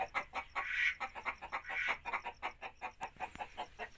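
Chickens in a village poultry yard, one of a flock of about three hundred birds kept alongside peacocks, cluck in a steady, close rhythm of short repeated calls with no talk.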